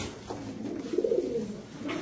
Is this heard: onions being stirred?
no